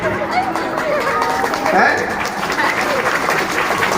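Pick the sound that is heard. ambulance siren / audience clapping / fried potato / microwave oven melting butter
audience clapping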